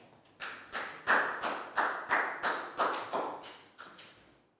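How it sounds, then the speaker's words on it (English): A class of students claps in a schoolroom, a series of about a dozen separate bursts of hand claps, each short and rhythmic, close and moderately loud with no talking. "big round of applause for Net, please, guys"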